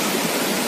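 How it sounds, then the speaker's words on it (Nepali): Water gushes in a dense, loud roar from the burst pipe of the Nippon hydel power project at Bhenchartar bazaar, flooding over the road. "निपन हाइडल पावर प्रोजेक्टको पाइप ब्लास्ट भएर पानी ओभरफ्लो हुँदै"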